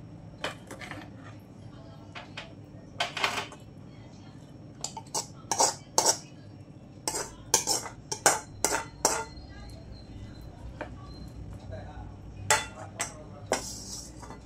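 Chapati and chow mein being served onto a plate, with repeated clinks and scrapes of a utensil against dishware in irregular bursts. A cough is heard and there is quiet background noise.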